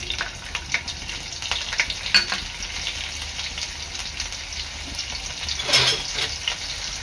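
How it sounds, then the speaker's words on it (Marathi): Curry leaves, cumin seeds and chillies hit hot oil for a tempering, crackling and sizzling up close with sharp pops and bursts over a steady frying hiss, louder near the end. "इथे मी फोडणीला कढीपत्ता, जिरं आणि आपली मिरची टाकणार आहे।"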